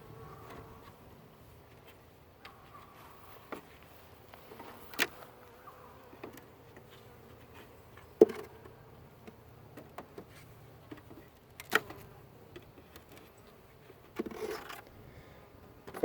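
Honeybees hum quietly around an open hive during a first inspection, a low steady buzz broken by occasional sharp clicks and scrapes of frames and hive tools.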